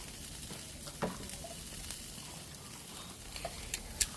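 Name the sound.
potatoes reheating on a grill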